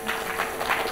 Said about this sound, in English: Come on, give claps, man.